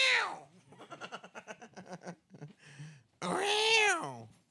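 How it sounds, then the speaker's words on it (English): A domestic cat meows loudly and close by in a run of drawn-out, pitch-bending cries, with a break and then one long, strong yowl at the end, heard alone without talk. "That's the cat."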